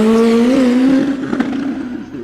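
Drag racing car launching at Santa Pod: a loud, close, high-revving engine howl that rises in pitch over the first second, then breaks into rougher, fading roar as the car pulls away.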